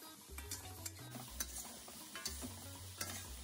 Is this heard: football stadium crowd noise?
no